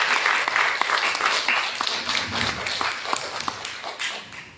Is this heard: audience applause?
yes